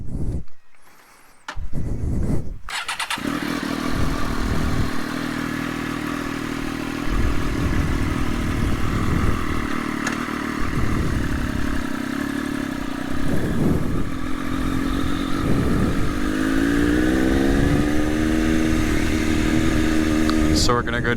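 A Triumph Moto2 motorcycle engine starts after a brief pause, then runs and idles loudly and close by with occasional revs, while a rider's voice talks over it.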